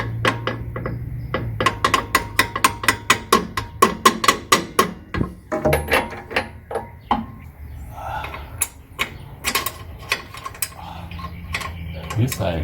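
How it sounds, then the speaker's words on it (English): A hammer strikes a bolt into a rear sway bar link on a Lexus GS or IS, giving a steady run of sharp, close metallic taps, then a short pause and more scattered hits. "Might use a hammer to hit it a little bit."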